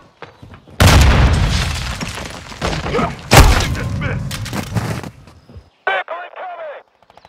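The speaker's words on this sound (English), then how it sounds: "Frag out." A frag grenade in Call of Duty: Modern Warfare II sets off loud, close, booming blasts with rumbling debris. A second heavy boom follows a few seconds later, then a brief voice speaks as the noise fades.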